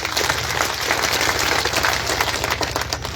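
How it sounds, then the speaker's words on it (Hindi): A large crowd at an outdoor election rally in a Rajasthan village claps together in a dense, steady burst of applause that stays loud and even for a few seconds. "आप इनके लिए जोरदार ताली बजाएं"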